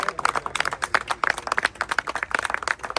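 Crowd applause greets the unveiling of a new Sonalika Gold 55 tractor at a launch event, a fast, continuous patter of many hands clapping at moderate loudness with no voices over it.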